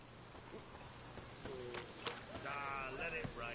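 Steady, faint rain hiss fills the background of The Witcher 3 while people talk over it.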